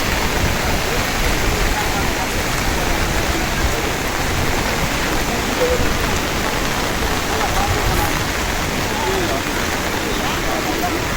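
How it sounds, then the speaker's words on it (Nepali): Heavy rain pouring steadily in Kathmandu, a dense, unbroken roar of falling water that stays loud and even throughout, with no pauses or gaps. "सबभन्दा ठुलो पानी हो यो।"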